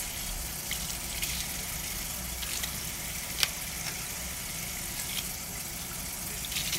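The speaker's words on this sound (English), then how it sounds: "So I'm rinsing the shells." Eggshells being rinsed under running water for making chalk, a steady hiss of flowing water with faint clinks and splashes, no talking.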